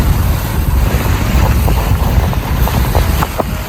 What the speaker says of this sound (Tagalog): Pero dito, malakas din ang hangin.